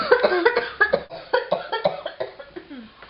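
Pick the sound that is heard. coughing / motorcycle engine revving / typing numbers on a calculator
coughing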